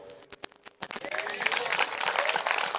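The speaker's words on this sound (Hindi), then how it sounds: "ऐसी ताली मत बजाओ" An audience claps at a church sermon gathering, starting with a few sharp separate claps that swell into steady, dense applause from many hands, moderately loud.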